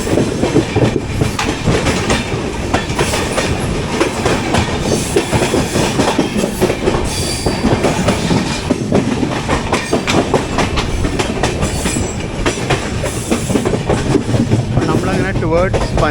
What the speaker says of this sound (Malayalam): ലോക്കോ WCAM 3 ആണ്, 21955. നേത്രാവതി എക്സ്പ്രസ് തന്നെയാണത്